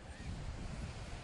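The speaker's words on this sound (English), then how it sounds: "Wind and waves are picking up along the North Carolina coast" Wind and surf on the North Carolina coast as a hurricane nears: a steady, loud roar of breaking waves with heavy wind buffeting across the mic, continuous with no voices.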